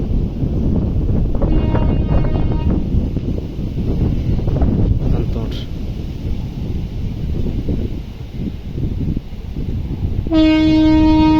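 Vande Bharat express train, Hubballi to KSR Bengaluru, rushing past near Harihar with loud rumbling wheels and wind buffeting, ending in a sharp sustained horn blast at close range.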